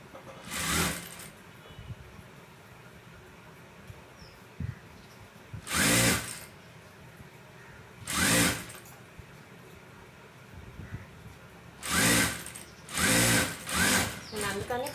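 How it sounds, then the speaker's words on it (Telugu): A sewing machine stitches a blouse in several separate runs of rapid, buzzing stitching, each lasting about a second, close and loud, with quieter handling sounds between bursts. "స్టిచ్ చేస్తున్నానండి"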